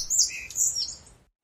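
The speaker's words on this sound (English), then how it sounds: "Those birds are completely irritating me. I can't stand to do something fun, because of their stupid chirping." Bright, high bird chirps and tweets in the outdoor survival video game Grounded, a short burst of several quick calls close by, then silence.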